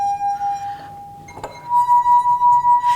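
A singing glass partly filled with water rings with a clear, steady pure tone that shifts slightly higher partway through, with a faint clink in between, heard close and alone.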